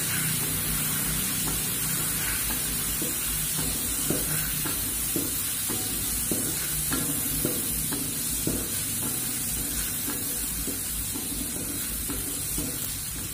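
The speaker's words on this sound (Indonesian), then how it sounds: "Bumbunya tadi kita tumis terlebih dahulu sampai baunya harum." Spice paste sizzles steadily in a hot pan while a spatula scrapes and taps against the metal, a continuous close stir-fry hiss with no voices.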